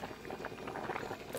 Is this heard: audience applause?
no